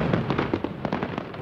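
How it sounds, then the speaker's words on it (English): Celebratory fireworks burst in quick succession over Washington, a rapid rhythmic series of muffled pops and crackles heard at a distance, with no voices. "In Washington, fireworks filled the sky."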